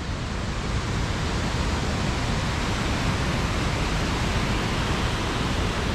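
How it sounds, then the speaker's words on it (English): Reekie Linn waterfall in Scotland roars steadily and loudly, a dense unbroken rush of falling water close by with no talk. "Wow, it's so epic to come here and see the waterfall again."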